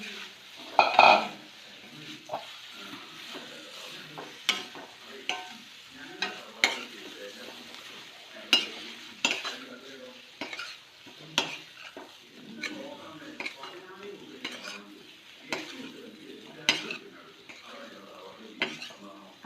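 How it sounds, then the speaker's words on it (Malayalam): Intermittent scraping and clanks of a spatula stirring fried chicken for Chicken 65 in a pan, with a soft sizzle underneath; no talking. "നമ്മൾ വറുത്ത് വെച്ചിരിക്കുന്ന ചിക്കൻ ഇതിൽ ചേർത്ത് കൊടുത്തിട്ട് ഒന്ന് വഴറ്റിയെടുക്കും."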